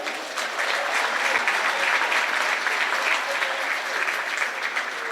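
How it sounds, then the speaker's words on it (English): Sustained applause from an audience at a high school girls' basketball event fills the room, dense and steady for several seconds with no voices standing out. "So a big round of applause for Bio."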